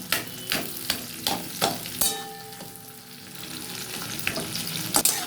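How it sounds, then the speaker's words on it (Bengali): Catla fish head frying with onions in a pan, a continuous close sizzle broken by a regular run of spatula strokes and knocks at the start, then steadier frying with a few more scrapes near the end. "এটাকে ভালো করে এই পেঁয়াজটার সাথে আমি ভালো করে মিশিয়ে কষিয়ে নেব"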